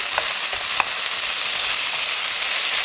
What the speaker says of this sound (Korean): 이렇게 볶고 있지만 감자가 하나도 안 깨지잖아요